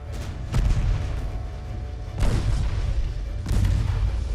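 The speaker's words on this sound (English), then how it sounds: "Torpedo detonated." Torpedo detonations in the naval warfare game Ultimate Admiral: Dreadnoughts, three heavy booming blasts spaced about a second and a half apart, each with a rumbling tail.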